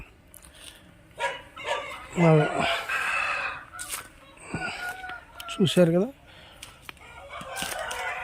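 A rooster crows twice, loud and close, with clucking hens and a dog barking nearby while a person talks over the farmyard noise in a mango orchard near Amaravati.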